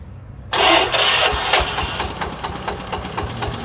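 Kubota K7 tiller with electric start firing up, an abrupt loud catch after a brief moment of near quiet, then settling into a steady, fairly smooth mid-pitched idle, close by, with no voices.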